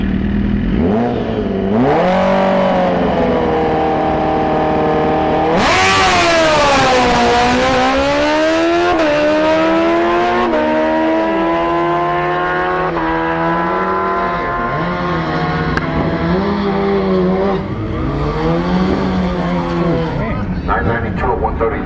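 A drag racing motorcycle makes a solo run at Orlando Speed World, its engine screaming loud and close, with the pitch climbing and dropping through repeated gear shifts before fading off down the strip.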